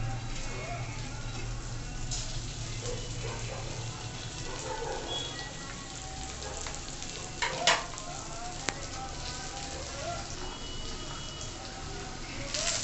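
Onion sizzling in a pan for tawa pulao, a soft, continuous frying hiss with a few brief clatters from stirring partway through, at a moderate distance.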